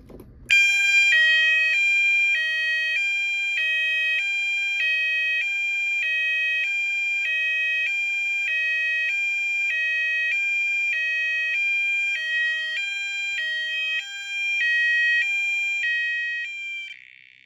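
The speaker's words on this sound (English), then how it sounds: "The tone it's set to is some kind of high-low." A fire alarm horn strobe blares a steady high-low tone, two pitches alternating in a fast, even cycle, loud and close, running unbroken with no voices.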